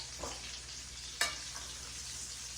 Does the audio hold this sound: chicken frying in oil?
yes